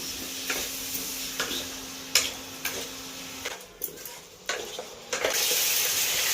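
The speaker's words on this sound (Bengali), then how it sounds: "আর এটা জিরে বাটা, আদা বাটা, লঙ্কা বাটা, আর কিছু দেবো না। এবার আমি এটাকে একটু কষে নিই।" Cumin, ginger and chili paste sautéing in a pan, with soft sizzling under repeated scraping stirs and clicks of the utensil against the pan at an uneven pace, close and fairly quiet, with no talking.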